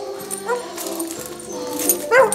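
A dog whimpers and gives short yips and soft barks beside a caravan while a handler clips its leash to a tyre, the whines rising and falling close by with a louder yelp at the end.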